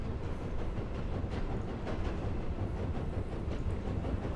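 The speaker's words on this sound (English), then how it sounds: "The train is traveling left." A train moves through a video game world, heard as a soft, continuous rolling rumble with faint rattling. It stays steady and quiet throughout, with no voices.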